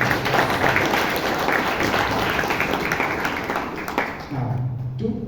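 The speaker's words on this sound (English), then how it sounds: "Can we have a round of applause for Alan?" Round of applause from the audience at a Bangalore Toastmasters club meeting, steady clapping that fades out near the end as a voice begins speaking.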